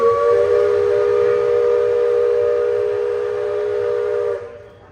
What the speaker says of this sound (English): Here comes the Thunder Mountain train.